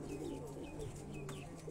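Parel pigeons on a rooftop give low, rolling coos against a constant hum, with a few brief higher chirps scattered through the short stretch.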